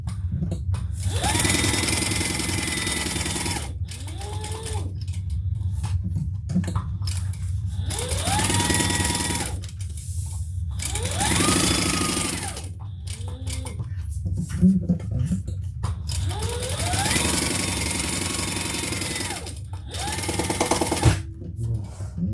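A sewing machine bastes fabric for a small crossbody bag about 1/8 inch from the edge, running in several sustained bursts with short pauses between them, loud and close.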